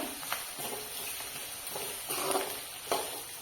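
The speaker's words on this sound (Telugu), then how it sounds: "ఆనియన్స్ అయితే ఫ్రై అవుతున్నాయి" Onions sizzling in a hot pan while a curry is prepared, a steady frying hiss broken by several soft stirring scrapes at an uneven pace.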